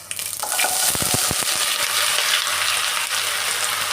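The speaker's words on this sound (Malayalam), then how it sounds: "കടുക് പൊട്ടി വന്നിട്ടുണ്ട്." Mustard seeds splutter in hot coconut oil for a Kerala-style lunch, with a cluster of sharp, close pops over a continuous loud sizzle that carries on steadily after the popping eases.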